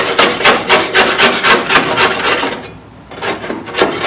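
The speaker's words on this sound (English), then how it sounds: "I just grabbed my brand new razor sharp putty knife and it's actually taking it off pretty good." Razor-sharp putty knife scraping rust off a 1970 Challenger's front fender well, a loud, close, rhythmic rasping of repeated strokes with a brief pause near the end.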